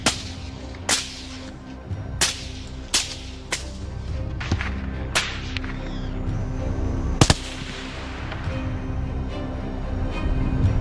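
Hunting rifles fire at wild boars in the dark, a series of sharp, loud single cracks spaced a second or so apart, then a couple more after a pause, over a steady low background hum.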